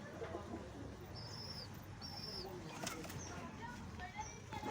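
Kamagar pigeons cooing in a pigeon sale setting, with soft low coos and a few brief higher chirps over a constant background hum.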